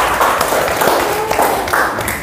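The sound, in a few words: class applause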